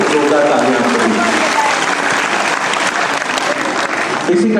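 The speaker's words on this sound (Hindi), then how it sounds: "जोरदार तालियां" Strong, continuous applause from an audience at a cancer survivors' honour ceremony in a Jaipur hospital event, dense clapping held at a steady loud level throughout.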